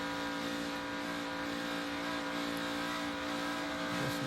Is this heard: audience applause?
no